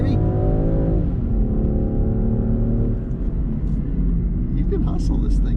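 A Land Rover Defender 110 P400 engine surges under hard acceleration up a hill, its rising tone settling into a loud, steady drone heard from inside the vehicle.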